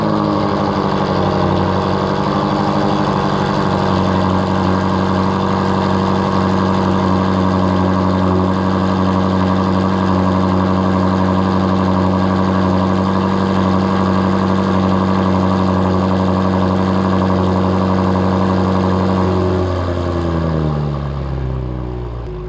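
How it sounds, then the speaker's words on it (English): A 2019 BMW M5 Competition on its factory exhaust idles after a cold start, a steady deep drone with strong low harmonics, close and loud, dropping off as it winds down near the end. "that was a cold start from the factory exhaust"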